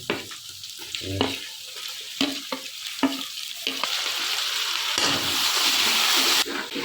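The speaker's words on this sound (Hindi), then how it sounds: "थोड़ा सा लग रहा है वो प्याज नीचे से, तो थोड़ा सा पानी ऐड करेंगे" Browning onions sizzle and fry in a pan, with stirring scrapes and a steady hiss that swells louder and broader after water is poured in, close and continuous with no talk.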